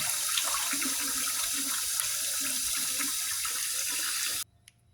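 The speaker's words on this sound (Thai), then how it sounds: "ล้างทั้งหมดด้วยน้ำใสเลยนะคะเพื่อน" Fish being rinsed in clean water under a running tap, a steady close splashing stream that stops abruptly just before the end, leaving near silence.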